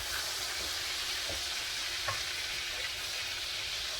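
Bacon grilled cheese frying in a pan, giving a steady, dense crackling sizzle with scattered small pops, close and fairly loud, without any talk.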